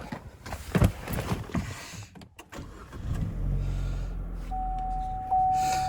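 A Chevy Cruze with a swapped ZZPerformance engine cranks briefly, catches and settles into a steady close idle, following some rustling and clunks before the start.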